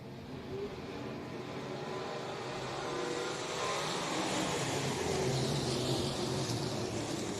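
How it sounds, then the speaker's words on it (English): Sprint cars racing at Heart O' Texas Speedway, a steady engine drone that builds slightly and holds loud throughout, with no talk over it. "Next up, your sprint cars."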